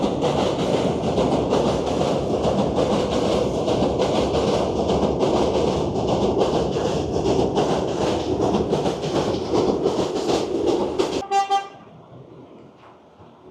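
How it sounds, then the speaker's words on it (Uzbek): A New York subway F train passes close by, a loud sustained rumble and rattle of wheels on rails with a horn-like tonal note, ending abruptly as the train clears and the noise drops away. "Bu yerda metro, F-tren yuradi."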